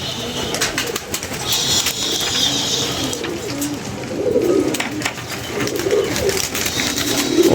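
Pigeons kept at a loft in Lahore coo repeatedly at close range, their soft rolling calls layered over a busy outdoor background with scattered clicks and faint rustling throughout.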